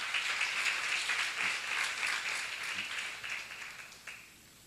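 An audience at a church seminar applauds, a steady wash of clapping that thins out and fades toward the end.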